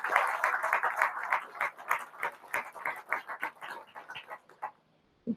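A round of applause at a U.S. Army Corps of Engineers Norfolk District event, a few seconds of lively close clapping that thins out and stops near the end.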